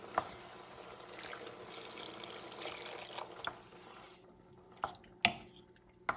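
Beef broth being poured into a pot of Puerto Rican red bean stew, a soft, faint trickle broken by a few sharper drips and splashes toward the end.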